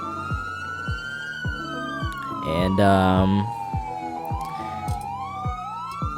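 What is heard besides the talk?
police car siren in a video game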